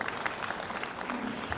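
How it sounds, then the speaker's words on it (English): Audience at an immunization conference and vaccinology training course applauding together, a dense, even wash of many hands clapping, held steady for the whole stretch at a moderate, slightly distant level. "let's clap for ourselves for being here today."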